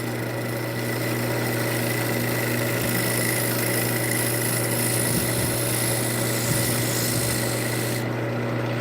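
A wooden piece spins on a lathe while a tool rounds off a tenon and cuts small beads, giving a steady close rasping scrape over a constant motor hum, with no talking.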